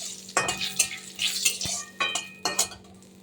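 Dried red chillies, bay leaves and cumin seeds fry in hot oil in a pan for a fish curry, a steady crackling sizzle broken by several sharp scrapes and clinks of a stirring utensil.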